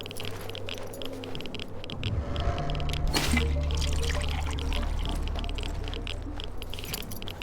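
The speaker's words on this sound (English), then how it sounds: "Gonna refill my water here, I guess." Water being refilled in the Wasteland 2 video game, a short liquid pouring and dripping sound effect with a brief splash near the middle, heard on its own.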